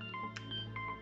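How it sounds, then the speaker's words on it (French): A telephone sounds during a tarot card reading, a short run of electronic dial-type tones that is fairly quiet and steady and is heard alone over a soft room hum. "Pardon pour le téléphone."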